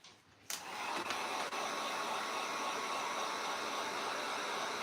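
A dryer, drying paint on a mason jar scarecrow craft, switches on after half a second and then blows a loud, steady, even whoosh close by for the rest of the clip, with no talking.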